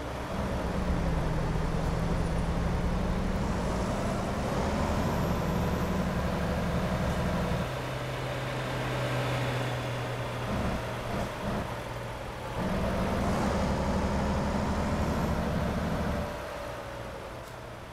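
Truck engine in American Truck Simulator, driven with a Logitech G923 steering wheel, running with a steady low drone and broadband road rumble that shifts in pitch as it moves, loud and continuous with no talk.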